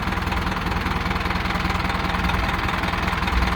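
A Ford TS90 farm tractor with a freshly rebuilt engine runs at a steady idle, close up, a loud continuous diesel chug with a fast regular knocking pulse and no talk.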